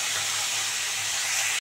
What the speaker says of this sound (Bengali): আরেক পিঠও ভালো করে লাল করে ভেজে নেব।